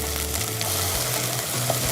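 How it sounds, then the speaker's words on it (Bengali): Coconut milk goes into a pan of shrimp pulao, raising a loud, steady sizzle and frying crackle close up, with no talk. "আমি এখন নারকেল দুধ দিচ্ছি একটু, কষে আসলো।"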